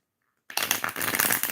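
Silence, then a burst of dense papery shuffling: tarot cards riffled and rubbed together close up, continuous and fairly loud.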